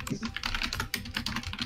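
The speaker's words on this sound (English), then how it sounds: "I was typing." Rapid typing on a computer keyboard, a dense burst of close, clicky keystrokes in quick uneven rhythm, heard alone without talk.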